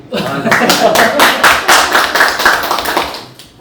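A small group of villagers clapping in a rhythmic, fairly close run of loud claps, with voices mixed in and the claps fading near the end.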